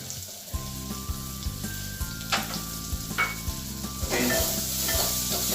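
Small onion pieces sizzle in a hot pan with a steady frying hiss, broken by light regular knocks of a stirring utensil against the pan. The sizzle swells toward the end.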